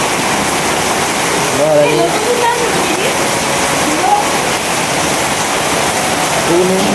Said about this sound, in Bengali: প্রচুর বৃষ্টি প্রচুর পরিমাণ বৃষ্টি